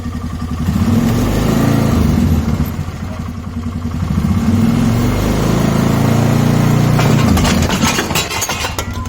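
A Polaris Sportsman 450 ATV engine running after being put into full drive, a loud, close, steady motor drone that rises and falls in pitch, with a burst of rattling toward the end.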